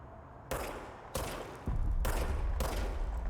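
Loud, close gunshots ring out in the video game Control, several sharp blasts spaced roughly half a second apart, each with a short decaying tail and a rumbling low end building toward the end.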